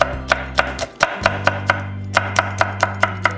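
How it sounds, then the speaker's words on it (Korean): A knife chops Cheongyang chili peppers steadily on a cutting board, about a dozen crisp, evenly spaced strikes with a short pause partway, over a low steady hum. "청양고추도 썰어보도록 하겠습니다."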